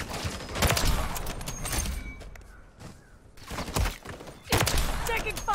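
Loud bursts of rapid gunfire from the video game MW3, with a sniper mentioned, break out in clusters separated by brief lulls, and a character speaks under the action.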